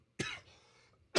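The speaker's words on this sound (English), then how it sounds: "I apologize for the cough" A single close cough followed by a raspy throat-clearing exhale, then the start of a second cough, in an otherwise quiet indoor setting.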